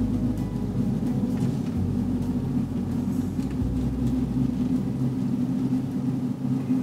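A car driving along a forested road in Sequoia National Park, with a steady, loud engine and road rumble running continuously and close, with no talking.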